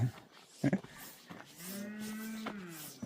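A cow lows in the cave country of Dhakmar, Upper Mustang, giving one long, drawn-out moo at moderate distance in quiet open air, after a few brief knocks and short voice sounds.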